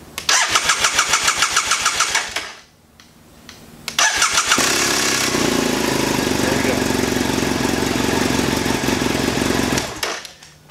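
A BMW 700/800 motorcycle engine cranks in a rapid, even starter rhythm for about two seconds after a fuel filter replacement, pauses, cranks again, then catches and runs at a loud, steady idle before cutting off.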